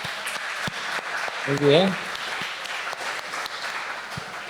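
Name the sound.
audience applause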